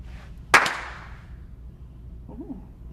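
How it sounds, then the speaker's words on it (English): A single sharp hand clap near the mic, ringing briefly, followed by quiet room tone and a faint voice murmur near the end. "Let's try a clap."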